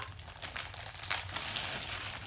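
Crinkling and crumpling of packaging as a gold necklace is unwrapped, a steady close rustle with sharper crackles, no talk.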